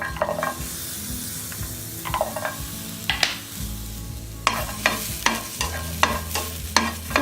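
Small shallots and garlic cloves sautéing in a pan for a coriander seed chutney, with a steady sizzle broken by repeated scraping stirs and clinks of a spoon against the pan. There is no speech.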